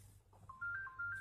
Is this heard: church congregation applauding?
no